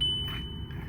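A Volkswagen Golf sounds a single clear, high electronic chime as the key turns to ignition-on, ringing out over a low background hum and then fading.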